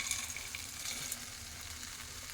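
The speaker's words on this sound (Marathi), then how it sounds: "फरसाण टाकलं की चांगलं असं एकत्र करून घ्यायचा" Mixed farsan being stirred into a ready bhaji masala in a pan, giving a steady close sizzle with soft scraping and stirring throughout.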